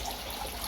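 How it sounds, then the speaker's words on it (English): Water flowing from a pipe into a koi pond being prepped for spring, a steady broadband trickle and splash running continuously at moderate level with no talk. "Still getting a lovely flow coming up there."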